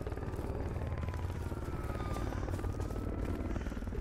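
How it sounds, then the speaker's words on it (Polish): Helicopter in the video game S.T.A.L.K.E.R. with the Dead Air mod, its rotor thudding in a steady, rapid chop with a low engine drone, continuous and fairly loud throughout. "Matko, boję się tego helikoptera."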